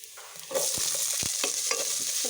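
Chopped shallots and green chilies frying in oil, starting with light stirring clicks, then a sudden bright sizzle that continues steadily with scraping spoon strokes, close and fairly loud, with no talk.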